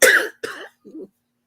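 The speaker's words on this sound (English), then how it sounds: "Now I got this cough." Two harsh coughs in quick succession, close up, followed by a short low throat rasp.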